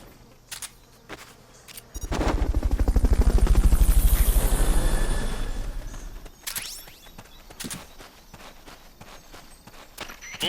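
A Fulton recovery helicopter's rotor thumps rise and fade over a few seconds in Metal Gear Solid Peace Walker HD, with footsteps and scattered clicks before and after.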